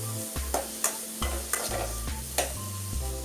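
Small shallots sautéed in a pan, with a soft sizzle broken by regular scraping strokes of a spatula, about one every half second, close and clear.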